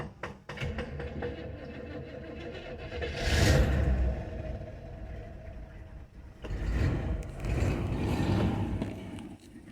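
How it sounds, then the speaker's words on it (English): A 1964 Chevrolet Impala's engine cranks, catches and runs, rumbling and revving up in two rising surges, with a new electric fuel tank fitted, heard close with no talk. "I'm turning the key."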